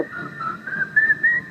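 A man whistles a short tune on a radio breakfast show, a few thin wavering notes in quick succession, close and clear with no talking over it.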